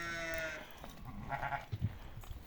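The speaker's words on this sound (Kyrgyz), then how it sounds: "бул 4 айлык козу." Four-month-old lamb bleating once near the start, a short wavering cry, followed by quiet shuffling and low background noise.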